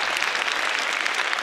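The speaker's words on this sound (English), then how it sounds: "Give me a round of applause." Audience applause during a 2017 keynote at a teaching conference: a dense, steady wash of many hands clapping, loud and sustained without a break, with no speech over it.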